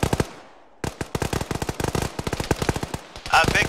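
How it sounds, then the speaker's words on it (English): Rapid bursts of gunfire from weapons in a military video game, with dense automatic volleys and scattered single shots, loud and close, continuing in quick succession throughout after a brief lull. "I see too many weapons firing."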